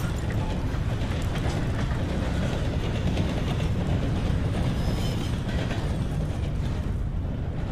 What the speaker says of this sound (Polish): O, jedzie pociąg.